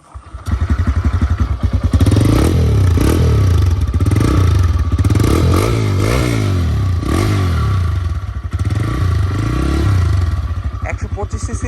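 A 2023 TVS Raider 125cc motorcycle starts up close by and is revved repeatedly, the engine note climbing and falling in several loud surges over a steady idle.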